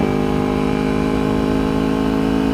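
A 250cc beginner motorcycle engine runs steadily up close, a loud, even mechanical drone that holds without a break and has no voices over it.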